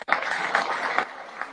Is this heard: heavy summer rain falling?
no